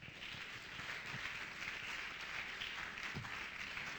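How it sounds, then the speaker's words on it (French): Sustained applause from a church congregation fills the space, a steady dense wash of many hands clapping at an even level with no talk over it. "Applaudissez Jésus."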